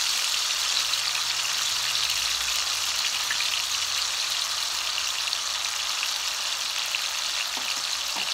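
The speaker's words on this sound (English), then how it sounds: "I'm going to do my potatoes, saute them." Potatoes sautéing in a pan as part of a breakfast medley, giving a steady, dense sizzle that holds evenly from start to finish with no voices.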